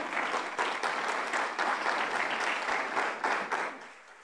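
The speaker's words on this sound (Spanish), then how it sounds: "Dale un fuerte aplauso al Señor." A congregation at a church service claps loudly and continuously, a thick wash of hands that holds steady, swells a few times, then fades at the end.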